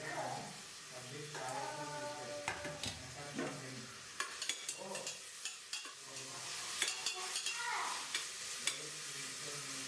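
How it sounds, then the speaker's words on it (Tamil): Onion sautéing in a pan with cinnamon and cloves for a paneer biryani, heard as a soft, low sizzle with intermittent stirring clatters and scrapes, fairly quiet and close. "பட்டை, கிராம்பு போடுற அப்போவே வந்து வெங்காயம் போட்டு நல்லா வதக்கிக்கலாம்"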